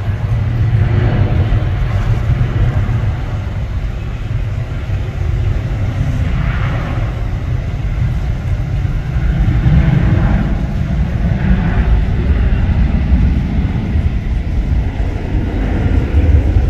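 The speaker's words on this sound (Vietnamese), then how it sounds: "Đứng từ đây có thể nhìn thấy máy bay đáp lên xuống luôn." Aircraft landing and taking off at Tan Son Nhat airport in Ho Chi Minh City produce a continuous, fairly loud low engine roar heard from a nearby hotel, steady throughout with no talk.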